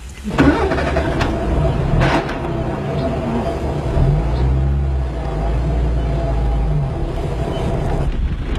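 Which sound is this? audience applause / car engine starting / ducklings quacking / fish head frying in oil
car engine starting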